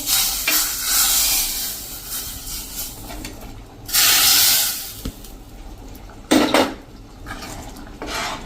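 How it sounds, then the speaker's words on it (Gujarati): Hot tempering hits a pressure cooker of black-eyed pea curry with a loud burst of sizzling, followed by scraping and stirring, clanks of metal utensils, and another sharp sizzle. "આ વઘારને આપણે આ જે કુકરમાં છે ને એમાં જ નાખી દેશું આ રીતે"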